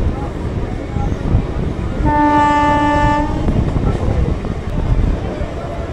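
A Sealdah to Canning local train runs with a steady, close rumble from inside the carriage. A long horn blast sounds partway through, with faint voices in the background.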